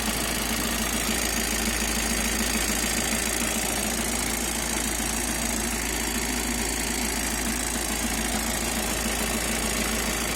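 A 2018 Volkswagen Transporter 4x4 van engine idles steadily with a low, rough rumble and faint knocking, close by and unchanging throughout, no voices.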